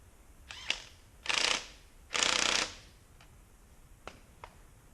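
The rear axle of a Yamaha TTR50 is tightened, with close ratcheting bursts of two longer cranks between scattered sharp clicks in a quiet space.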